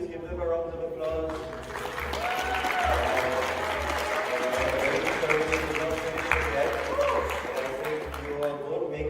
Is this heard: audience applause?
yes